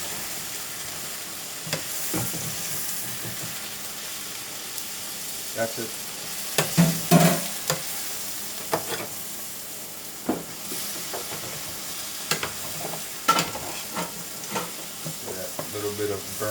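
Browned beef for vaca frita sizzling in a frying pan while it is scraped up, with soft steady frying and scattered scraping clatters, and a brief voice over it.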